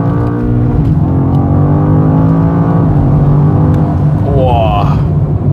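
A BMW M5 with 1000 Nm of torque accelerates hard in second gear, its engine droning loud and close from inside the cabin with rising harmonics as revs climb; a short upward sweep near the end, no talk.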